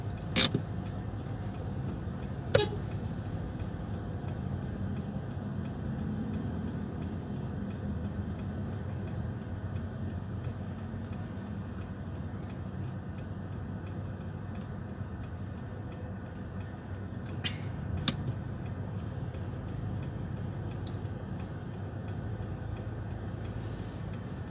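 Vehicles stuck in a traffic jam on the road from Transmart Lampung toward Urip: a low, steady engine rumble heard from inside, with a few sharp clicks and ticks and no talking.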